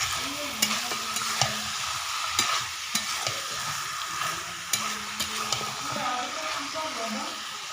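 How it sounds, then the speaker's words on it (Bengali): Chicken curry pieces stirred with spices in a hot pan, a steady sizzle and frying hiss under repeated scraping strokes of a spoon, close and moderately loud throughout. "এবার বাকি মশলার সঙ্গে মিশিয়ে নিচ্ছি।"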